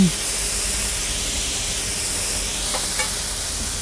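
Beef sizzles in a hot wok for a beef and broccoli stir fry, giving a loud, steady hiss of frying close by, with a faint brief clink of stirring near the end.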